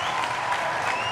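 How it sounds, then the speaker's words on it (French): Audience applause at a live event, a dense steady wash of many hands clapping throughout, moderately loud with no break. "on va l'applaudir encore"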